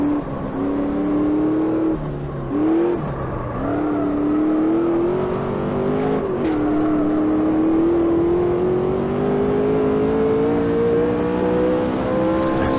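A race car engine in the sim game Automobilista 2 revs hard and steady, climbing toward 8000 rpm in third gear with brief lifts between pulls, loud and close with no talk over it.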